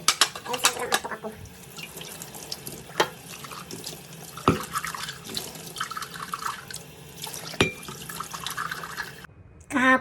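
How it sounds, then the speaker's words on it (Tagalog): Food containers being washed by hand in a kitchen sink, with running tap water, scattered clinks of plastic and glass, and splashing drips in uneven bursts, fairly quiet and close, ending in a brief sharper rush of water. "Lutas muna ako ng mga lalagyan kasi hindi ko nahugasan ito kagabi."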